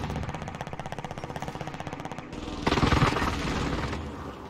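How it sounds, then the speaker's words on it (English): An airstrike in the video game Warzone comes through as a rapid, rattling stream of explosive impacts and heavy engine drone, steady and loud, with a denser burst of noise partway through. "Airstrike. Stay alert."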